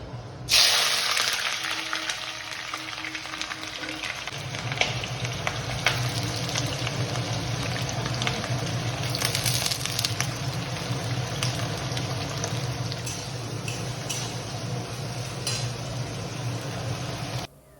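Chopped onions sizzle steadily in hot oil in a home kitchen, a loud continuous frying hiss that runs unbroken throughout, with a brief clatter near the start.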